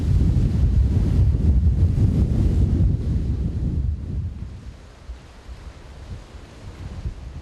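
Stormy sea off Jeju with rough waves and strong wind rumbling heavily near the microphone, loud at first and then easing to lower, gusting surges.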